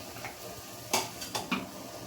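A paneer paratha brushed with ghee sizzles faintly on a pan, with a few quick utensil clinks and scrapes as it is flipped, quiet and close, no speech.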